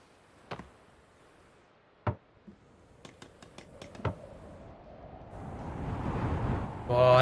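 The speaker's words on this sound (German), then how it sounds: "Der Wind." Wind blows in The Forest survival video game, a soft whoosh that swells steadily louder over the last few seconds. Several sharp clicks and taps come earlier, while the air is still quiet.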